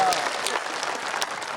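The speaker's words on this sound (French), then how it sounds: "Vous n'applaudissez pas pour nous?" A TV news studio audience applauds, a dense patter of clapping hands that holds steady across the moment with a few sharper claps standing out, close and fairly loud.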